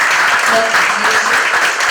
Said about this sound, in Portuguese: Uma salva de palmas à campanha feita nesse momento